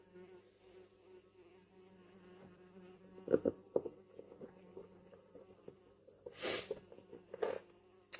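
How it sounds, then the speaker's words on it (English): A close insect buzz drones steadily, punctuated by a few louder bursts and rustling knocks, with no talking. "Got a wasp on my phone."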